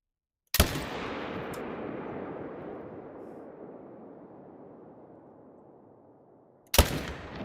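A single loud rifle shot fired at a bison in theHunter: Call of the Wild, Silver Ridge Peaks, with a long rolling echo that fades over several seconds before a second sharp blast cuts in at the end.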